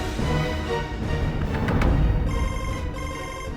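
A telephone rings loudly and close in an Indonesian drama scene, a warbling electronic ringtone with harmonic tones and no talking.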